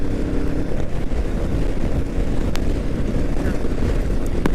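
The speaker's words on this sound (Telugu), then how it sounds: "గాలి అయితే ఫుల్ ఉంది" Heavy wind buffets the microphone of a rider on a moving Royal Enfield motorcycle in a constant low rumble for the whole stretch, loud and unbroken, with no other clear sounds.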